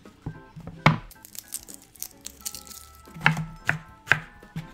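Knife chopping shallots on a cutting board, a series of sharp, irregular close thuds and clacks spaced through the clip, some louder strikes standing out, with no talking.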